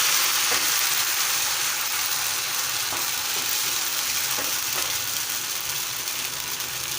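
Rice flour batter for Malvani ghavan poured onto a hot pan, hissing in a loud, steady, close-up sizzle that holds for several seconds with faint crackles.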